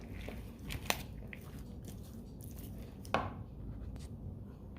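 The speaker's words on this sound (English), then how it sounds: "we're just gonna mix it all together until it's all coated" Food seasoned with a little salt and pepper is tossed and stirred until coated, with close, soft squishing and scraping punctuated by a couple of sharp utensil clicks.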